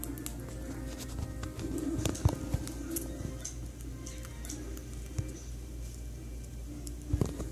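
A pet bird coos indoors: soft, low repeated coos under light clicks and occasional sharp taps, with a couple of louder knocks near the start and end.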